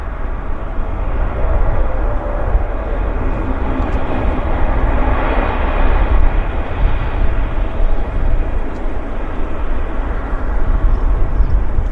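A Q400 turboprop airliner taxiing at Vancouver airport produces a steady, broad engine drone and rumble that holds evenly throughout at moderate distance.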